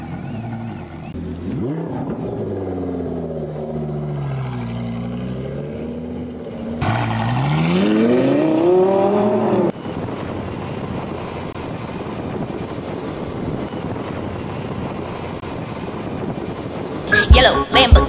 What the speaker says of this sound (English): A friend and I spotted this Lamborghini Gallardo while we were passing through Cobham Park.